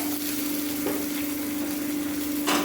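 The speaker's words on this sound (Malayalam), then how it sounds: "നമുക്ക് അതിലോട്ട് അരിഞ്ഞ് വെച്ചിരിക്കുന്ന വെളുത്തുള്ളി ഇട്ട് കൊടുക്കാം" Chopped garlic dropped into hot oil for a fish curry, giving a steady, close sizzle with a soft stirring scrape, a brief burst of crackle near the end.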